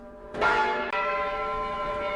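Church bells of an English church ring out in two clear overlapping strikes, their rich harmonic tones sustaining and slowly decaying, loud and close with no voices.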